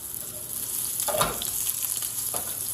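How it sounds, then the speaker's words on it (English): Food searing and simmering in oil in a pan, a steady close sizzle with a couple of brief louder spatters. "now you can see that these are simmering right here"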